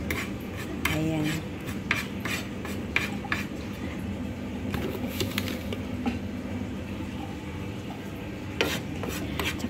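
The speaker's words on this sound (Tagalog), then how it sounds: "pag magluto kayo ng pulburon, dapat lagi nyo yan ginamix ganito guys para pantay yung pagluluto" Polvoron mixture being stirred in a pan, a steady scraping and rubbing with brief rasping strokes and occasional clinks, close and continuous, with no talking.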